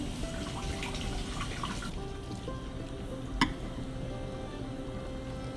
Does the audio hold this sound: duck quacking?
no